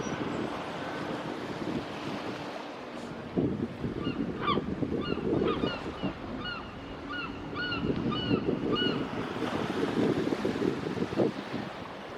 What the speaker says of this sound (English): The waves were crashing, the gulls were calling